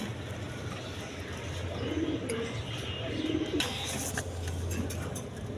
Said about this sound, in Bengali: ইন্ডিয়ান লোটন কবুতর